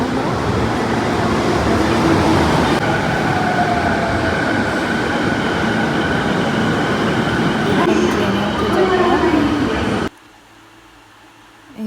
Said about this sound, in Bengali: এখন স্টেশনে অপেক্ষা করছি ট্রেনের জন্য